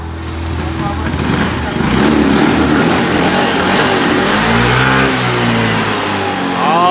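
A motorcycle engine with a tuned, aggressive sound revs loudly and repeatedly up close while on its side stand, its pitch rising and falling over a steady idle, with a voice talking partly underneath.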